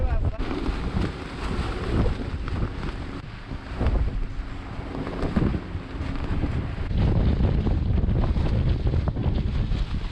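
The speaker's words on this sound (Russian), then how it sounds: "ветер поднялся, встречный" A strong headwind buffets a boat on the river, with steady roaring gusts against the microphone and water slapping the hull, and people talk now and then.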